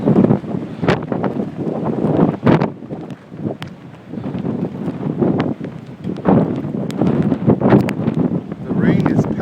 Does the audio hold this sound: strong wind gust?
yes